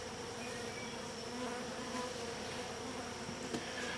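Honey bees in a hybrid beehive packing comb, a dense continuous buzzing hum of many insects close by, steady and unbroken with no voices.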